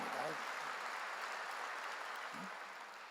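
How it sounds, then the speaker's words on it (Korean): Congregation clapping in a church service, a continuous broad patter of many hands with a couple of brief low voice fragments underneath. "이게 진리인 걸 믿으면 박수로 하나님께 박수라는 겁니다."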